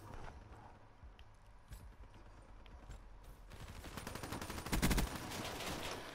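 Gunfire in Call of Duty Black Ops 3, a rapid rattling burst of automatic shots rising out of a busy game soundscape, fairly faint and distant at first and then closer and denser.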